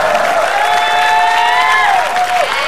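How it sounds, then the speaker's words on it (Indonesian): Studio audience applause on an Indonesian TV game show, loud sustained clapping and cheering from a crowd, with a voice speaking over it throughout. "Sekali lagi tepuk tangan untuk kita hari ini."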